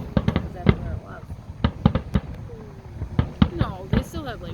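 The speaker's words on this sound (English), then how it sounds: "They're actually the best fireworks I've ever seen." Fireworks burst at McHenry's Fiesta Days, a run of sharp cracks and booms at irregular intervals, some in quick clusters, heard from a moderate distance with crowd noise and faint voices in between.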